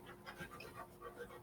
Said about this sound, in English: Can you guys hear my puppy puffing and panting?